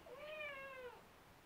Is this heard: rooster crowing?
no